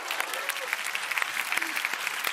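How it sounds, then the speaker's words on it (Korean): An audience at a Korean comedy show clapping, a brief burst of scattered, crisp claps, moderately close, with faint voices mixed in. "박수 한번 줘"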